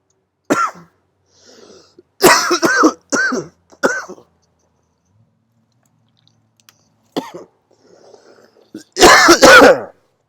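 Several sharp coughs and throat-clearing bursts from one person during a spoken lecture, loud and close, separated by silent pauses, with the largest burst near the end.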